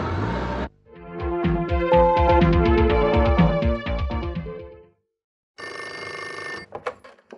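Telephone bell rings in a long run of bright, repeated trills, loud and close, then stops; after a short silence another burst of ringing tones follows.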